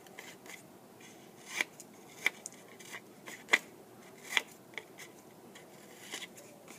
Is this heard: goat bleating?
no